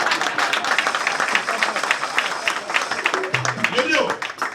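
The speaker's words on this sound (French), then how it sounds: "Donc si c'est vrai, applaudissez." A conference audience breaks into applause: dense, sustained clapping from a large crowd, loud and filling the room, with voices mixed in.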